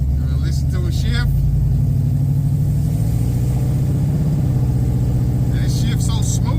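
A G-body Chevrolet Malibu with a 383 stroker V8 heard from inside the car, a deep rumbling engine pulling through a smooth gear shift, the pitch rising then dropping and settling. A person speaks briefly at the start and end.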